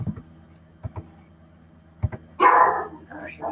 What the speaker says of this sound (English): As you can hear, my dog in the background